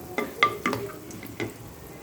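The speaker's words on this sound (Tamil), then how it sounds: "இதில் வந்து பட்டரை உருக்கிக்கலாம்" Butter melting in a pan while cooking paneer butter masala, with soft sizzling and a few quick stirring scrapes, close and fairly quiet.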